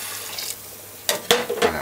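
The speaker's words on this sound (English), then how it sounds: "2 cups and a half of boiling water, warm water." Warm water is poured into a pot of Jamaican curry goat, heard as a running trickle followed by three short, close splashing pours.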